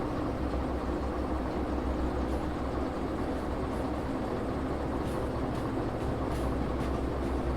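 Train cars roll slowly backward during shunting in the Derail Valley game, a steady low rumble of rolling stock with a few faint clanks and knocks near the end.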